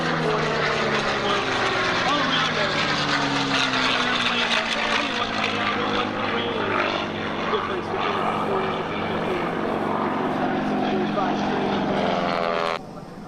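Loud propeller engines of a P-51 and a P-40 warbird drone steadily throughout a flyby over Long Island, pitch shifting as the planes pass, continuous and near.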